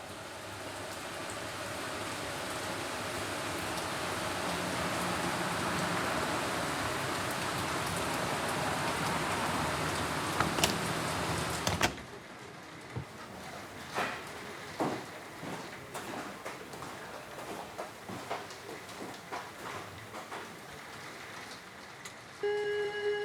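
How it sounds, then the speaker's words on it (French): Rain falls as a steady, dense wash of noise for a stage sound effect in a theatre performance, building slightly before cutting off abruptly midway, leaving a quieter room with scattered knocks and movement. "Il pleut."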